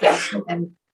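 A single sharp, close sneeze with a quick intake and burst, then a shorter trailing second part, loud and alone in a quiet room.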